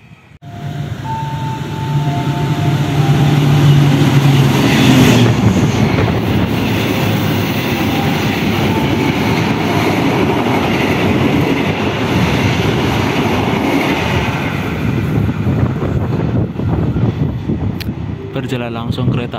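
The Argo Sindoro passenger train in Indonesia rolls past nearby with a loud, steady roar and rail clatter, and a horn sounds near the start.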